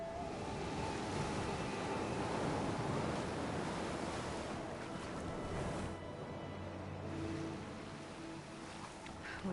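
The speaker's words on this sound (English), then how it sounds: "Wonder how long these gusts can keep it up." Wind gusts roar over the open sea in Horizon Forbidden West, a steady broad rushing with surf-like swells that rise and ease, close and loud, with no voices.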